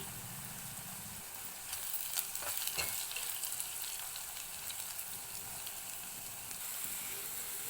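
Coriander powder and curry leaves for a prawn and onion curry fry in a pan, producing a steady close sizzle with stirring scrapes, and no voices.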